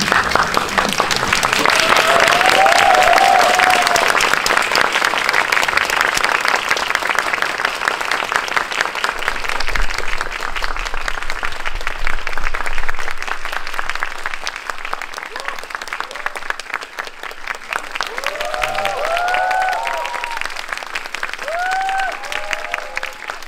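A theater audience gives a long standing ovation to director Kore-eda Hirokazu after a screening of Broker, dense sustained clapping filling the room, with scattered voices and whistles rising near the end.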